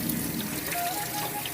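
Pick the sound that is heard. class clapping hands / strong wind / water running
water running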